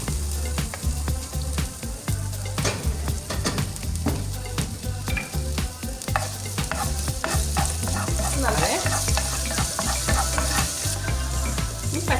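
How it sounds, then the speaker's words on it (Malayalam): Cumin seeds and chopped ginger frying in a pan while being stirred steadily, a continuous sizzle with repeated scraping strokes of the spoon throughout, close and clear with no voices. "സാധാ ജീരകമാണ് കേട്ടോ. ഇത് നന്നായി നമുക്ക് മൂപ്പിച്ചെടുക്കണം കേട്ടോ."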